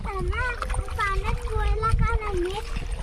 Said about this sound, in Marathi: मुंबईचं येडं बघा हे पाण्यात खेळते